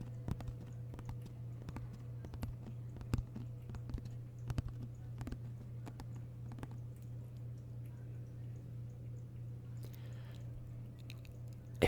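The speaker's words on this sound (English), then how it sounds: "I think that's my cat drinking water." A kitten laps water in a quick, irregular series of soft wet clicks, faint and close, over a steady low hum.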